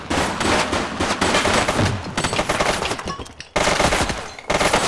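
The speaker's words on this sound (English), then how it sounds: "Shots fired!" Gunfire in the police video game The Precinct: loud, rapid automatic bursts rattle close by, break off briefly, then resume just as hard.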